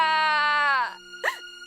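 A little cartoon bear cries in a storybook scene, a long, loud, wavering wail that breaks off, then a short rising whimper follows after a brief pause.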